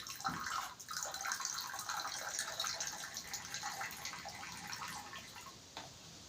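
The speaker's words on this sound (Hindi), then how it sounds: "एक गिलास है, इसमें हमने पानी डाला और पानी यूं रख लिया" Water poured into a drinking glass, a steady bright splashing trickle lasting several seconds with small drips, close and fairly quiet, no talking.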